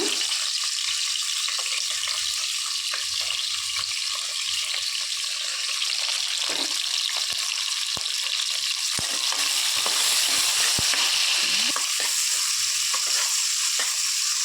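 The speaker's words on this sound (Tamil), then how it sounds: "வெங்காயம், பச்சை மிளகா ரெண்டையும் ஒன்றா போட்டுடலாங்க." Onions and green chilies fry in hot oil for a vegetable biryani, giving a loud, steady sizzle with bright crackle and occasional stirring clicks throughout, no talking.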